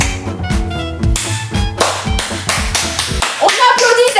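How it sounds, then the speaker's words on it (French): A few people clap in a quick rhythmic burst, sharp close claps repeating for a few seconds with voices faintly mixed in during a live home cooking session. "On applaudit cette préparation du tonnerre"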